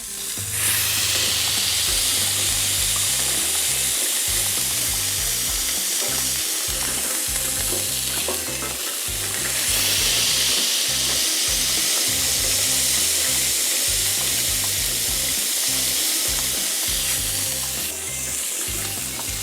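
A smash burger sizzles loudly in peanut oil heated to about 350 degrees, with steady broadband frying hiss throughout and occasional scraping or pressing sounds underneath, with no voices.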